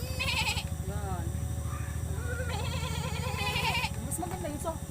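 A person imitates a goat's bleat with a wavering, nasal voice, repeated several times up close, mixed with other talk and laughter.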